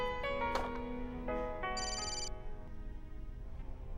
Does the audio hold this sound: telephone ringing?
yes